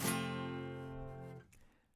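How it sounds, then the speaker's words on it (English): A strummed F barre chord on guitar sounds close and soft, its bright attack at the start decaying over about a second and a half before being damped into near silence. "bar chord version of F, again, sounds like this"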